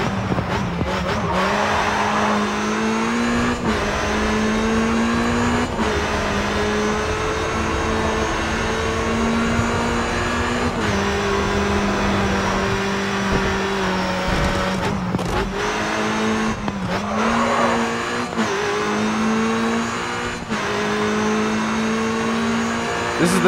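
Race car engines in the racing game Grid 2 drone loudly and continuously, rising and falling through gear changes, with occasional tire squeal on the turns.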